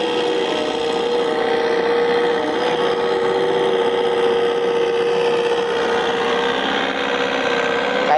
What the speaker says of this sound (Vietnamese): Cái tiếng ồn động cơ nó hơi to một tí anh em thông cảm nhá.